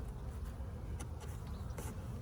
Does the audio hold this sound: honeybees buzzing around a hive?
yes